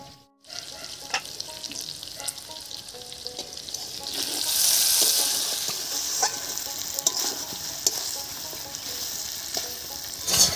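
Pigeon meat sizzles steadily in oil in an uncovered pan, a close continuous frying hiss that swells for a moment and is dotted with faint clicks and stirring sounds, with no talk.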